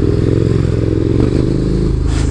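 A KTM Superduke 1290 R motorcycle drones loudly and steadily up close on a test ride, the engine held under hard power while the bike lifts into a wheelie.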